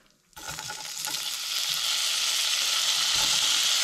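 Bacon dropped into a hot pan bursts into sizzling, the frying swelling quickly into a loud, steady crackle.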